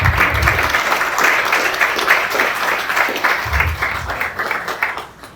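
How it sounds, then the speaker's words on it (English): A crowd at a food bank ribbon cutting applauds steadily with dense clapping that carries through the whole stretch, fading slightly near the end. "I think all of you deserve a round of applause for yourselves."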